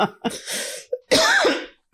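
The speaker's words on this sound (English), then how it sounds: "That was a blue moon cough, not a corona cough, by the way." A few sharp, loud coughs close by, a quick hack followed by a longer, raspy coughing burst.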